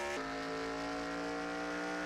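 A race car in the NASCAR Racing 2003 video game runs at a steady high engine whine, with a quick shift near the start after which the tone settles and holds, loud and close with no talking.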